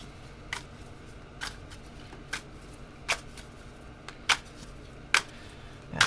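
Tarot cards shuffled in short bursts, seven or eight crisp riffles at a roughly steady pace, fairly quiet and close.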